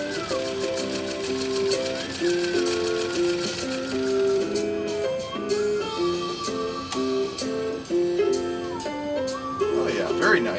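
A 1923 Singer Class 128 sewing machine with knee control, stitching with a quick, steady mechanical patter. The rhythm pauses and picks up again, and music plays along with it.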